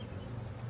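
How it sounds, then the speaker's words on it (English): Honey bees hum steadily in an open hive during a March spring inspection, a low, even buzzing drone that stays faint and continuous with no voices over it. "how many bees would you estimate are in this hive?"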